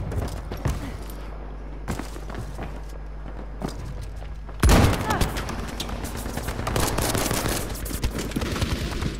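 Rapid bursts of Boys rifle fire in a war video game, sparse sharp shots at first, then a loud sustained barrage of overlapping gunfire and battle noise that carries through to the end.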